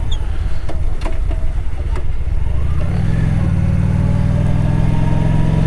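A faulty motorcycle engine idles and runs at low speed with a steady, close mechanical putter, a few sharp clicks early on, then a smoother, slightly raised drone.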